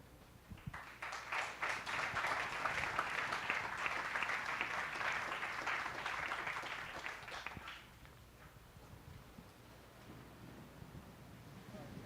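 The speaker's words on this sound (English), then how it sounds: "I think they deserve another round of applause." Crowd at a pre-race press conference for the pro triathletes at the IRONMAN World Championship gives a sustained round of applause, a broad wash of clapping that swells, holds for several seconds, then fades into a quiet room.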